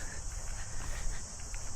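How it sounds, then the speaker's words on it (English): Late-summer crickets chirp steadily outdoors in green fields near a rustic farm barn, a faint continuous high trill over low wind rumble with no voices. "You hear all the crickets giving their last cricket calls."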